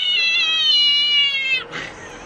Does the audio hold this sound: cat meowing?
yes